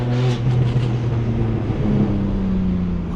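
BMW M235i fitted with an M Performance exhaust makes a loud, steady engine drone with strong low harmonics for about three seconds, a sustained pass with pitch shifting slightly, no speech over it.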